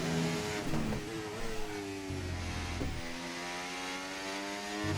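Racing car engine in a video game driven through a lap, a loud sustained mid-pitched drone that rises and falls with shifts and throttle changes, steady and close with no talk.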